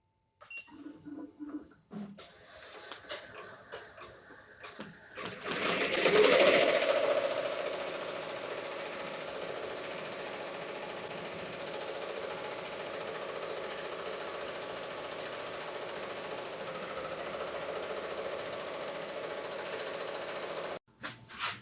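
An embroidery machine stitches a towel in a mighty hoop, starting with a few clicks and then settling into a fast, steady mechanical whirring and tapping that runs on evenly before stopping abruptly.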